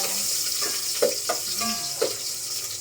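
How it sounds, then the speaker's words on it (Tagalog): Ginger sizzles in a very hot pan with a bright, steady hiss, and two or three soft stirring knocks come through up close. "Mainit na masyado ang kawali. Lagay na natin ang ating luya."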